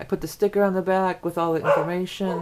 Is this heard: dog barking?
yes